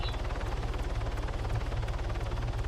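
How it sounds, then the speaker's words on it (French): A video game helicopter trails a police patrol car, its steady rotor chop thumping in a fast, even rhythm that stays loud and close throughout, with no talk over it. "voiture de patrouille suivi par un hélico"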